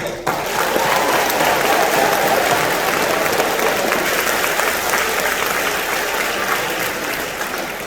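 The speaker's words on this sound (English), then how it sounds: "So give a round of applause for the graduating class of 2027 and the student council" A crowd applauds steadily at an 8th grade recognition ceremony, a dense wash of clapping that swells quickly and holds for several seconds before slowly tapering off.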